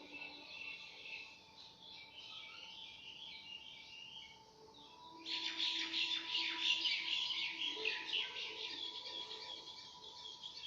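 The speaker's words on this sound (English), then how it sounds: "can hear birds singing outside my room" Birds singing outside a room, heard from indoors, with thin high chirps and trills that swell into a busier, livelier chorus halfway through, soft and somewhat distant against a quiet background.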